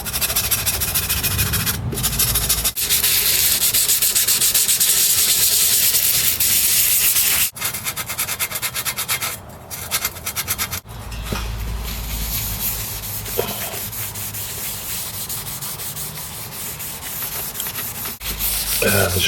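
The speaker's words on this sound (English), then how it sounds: "Light piece of fine sandpaper on the top of where this corrosion is here" Fine sandpaper rubbing corrosion off an Atari 65XE keyboard circuit board, a steady close abrasive scratching that runs almost continuously, with a few brief pauses and a softer stretch near the end.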